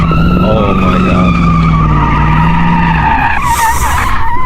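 A car in the BeamNG driving game skids loudly for several seconds, its tires squealing over a droning engine that drops off near the end.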